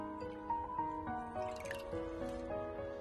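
Water dripping and trickling from soaked wood ear fungus as it is lifted out and drained into a bowl, a series of close, light drips and splashes with a faint tonal background.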